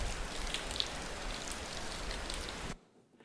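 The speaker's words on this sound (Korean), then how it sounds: "빗소리입니다." Rain drips from the eaves in a continuous soft patter with occasional distinct drops. It stops abruptly near the end.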